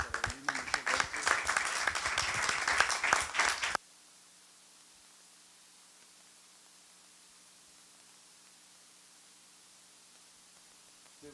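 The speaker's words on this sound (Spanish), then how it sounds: "Un aplauso para Lina, muchas gracias." Audience at an academic psychology and humanities conference bursts into dense, loud clapping for about four seconds, then the room cuts to near silence.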